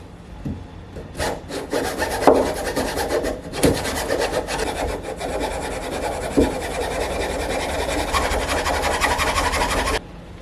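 A hand file rasps steadily across a wooden interior door in quick repeated strokes, close and continuous for about ten seconds before stopping abruptly, while a door knob is installed.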